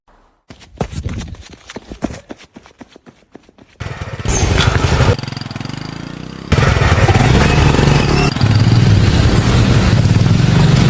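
A motorcycle engine in a Tamil short film, with scattered clatter and footsteps-like knocks at first, then a steady, loud engine running close by for the rest of the clip.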